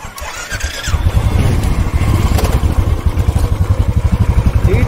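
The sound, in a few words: motorcycles starting up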